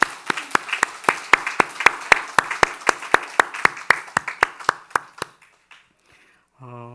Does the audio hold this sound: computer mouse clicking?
no